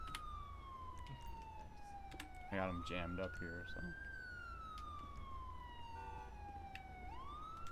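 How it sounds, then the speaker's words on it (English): A video game police siren wails continuously, sweeping slowly up and down in pitch, while someone speaks briefly over it. "I can't tell if the sirens are in game or actually like on the road."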